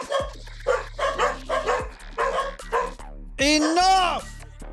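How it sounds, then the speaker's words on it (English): Several dogs barking and yipping in short rhythmic bursts, loud and close, with a higher whining yelp near the end over a steady low hum. "Honestly, dogs."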